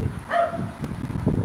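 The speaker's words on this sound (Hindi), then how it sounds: "डॉगी भौंक रही है भाई" A dog barks nearby, several short yips and woofs in quick succession over a room background, fairly loud and unaccompanied by talk.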